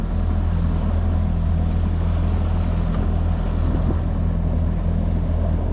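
Strong wind buffets a fishing boat out on Laurel River Lake in winter, a steady dense roar with low rumble and microphone wind noise running unbroken throughout, mixed with lapping water and no talk.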